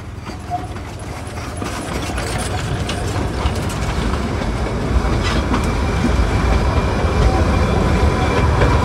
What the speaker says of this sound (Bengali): আর ফাইনালি কিন্তু টয় ট্রেনে দেখা পাচ্ছি আমরা, কালকে দেখতেই পাইনি। আর এটা কিন্তু স্টিম ইঞ্জিন।